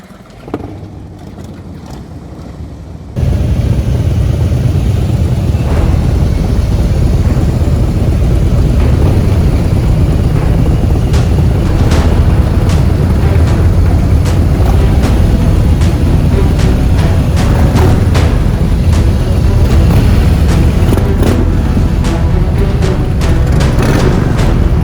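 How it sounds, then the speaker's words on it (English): Several motorcycles fire up together for a slow-speed riding practice session in Florida, a brief quiet lead-in giving way at once to a loud, steady, continuous engine rumble that holds for the rest of the stretch. "Preloaders, start your engines."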